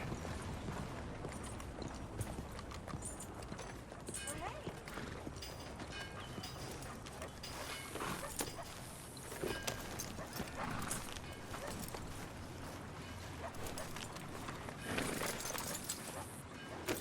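Horses ridden in Red Dead Redemption 2, hooves clip-clopping steadily at a gallop with occasional neighs, continuous and fairly close, under intermittent character talk and ambient game sound.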